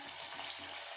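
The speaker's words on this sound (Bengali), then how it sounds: "এবার আমি এগুলোকে ভালো করে ভেজে নেব" Small bottle gourd kofta balls frying in hot oil, a steady, even sizzle that holds close and constant with no voices over it.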